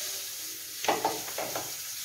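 Dip sauce ingredients such as chili sauce, soy sauce and crushed red chili are mixed with a spoon, giving a few short scraping strokes in a quick cluster over a steady hiss, close and fairly quiet.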